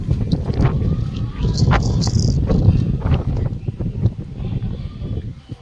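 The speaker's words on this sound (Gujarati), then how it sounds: "પવનનો અવાજ જુઓ" Strong wind blows across an outdoor spot as rain begins, making a loud continuous rumble and buffeting against the microphone, with scattered rustling throughout.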